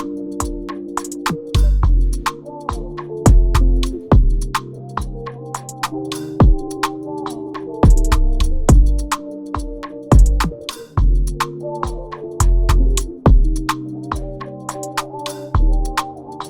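Afrobeat groove loop with a steady hi-hat pattern and punchy kicks over a distorted 808 bass from an Analog Lab synth, playing loud and continuous with no voices.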